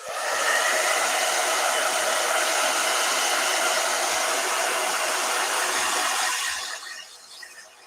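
A hair dryer blows steadily and loudly at close range for about seven seconds, used while painting a miniature figure, then cuts off and winds down, with light knocks underneath.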